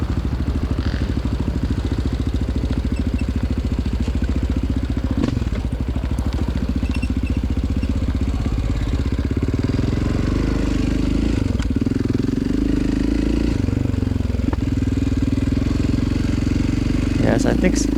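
A small quad bike's engine labors up a wooded hill during a cross-country race, a loud continuous droning rev with clattering over rough ground, close and steady throughout.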